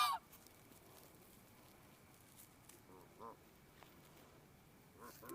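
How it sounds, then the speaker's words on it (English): Large birds, apparently geese, being fed ducks-style at Idlehour Park, giving a few short honking calls at the start, around the middle and near the end over quiet outdoor background noise. "I feed ducks at Idlehour Park."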